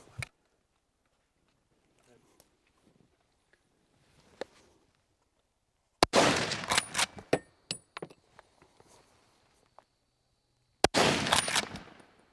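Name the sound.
gunshots at targets at 50 and 100 yards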